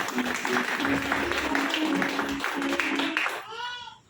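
An audience at an RCM seminar in Vasco da Gama, Goa, claps in a steady wash of applause mixed with voices, which then drops away at the end.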